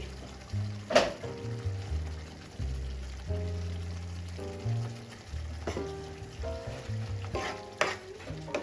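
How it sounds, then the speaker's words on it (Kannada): Eggplant curry frying and bubbling in a pan, a steady low sizzle broken by scraping stirs and a few sharp clinks of a spoon against the pan. "ಕುದೀತಾ ಇದೆ, ಇನ್ನೂ ಸ್ವಲ್ಪ ಕುದೀಲಿ"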